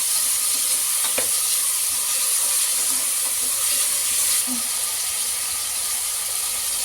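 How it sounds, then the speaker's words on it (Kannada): Chopped tomatoes frying in a pan for egg donne biryani, giving a steady, even sizzle throughout with a few faint stirring clicks and scrapes. "ಅದನ್ನು ಇದಕ್ಕೆ ಸೇರಿಸ್ಕೊತಾ ಇದ್ದೀನಿ. ಇದನ್ನು ಈಗ ಚೆನ್ನಾಗಿ ಫ್ರೈ ಮಾಡ್ಕೊಳ್ಳೋಣ."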